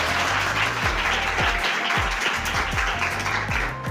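Audience clapping for a newly selected police sub-inspector candidate at a motivational gathering, a dense, continuous patter of many hands at moderate distance, steady throughout with low rumbling thumps underneath.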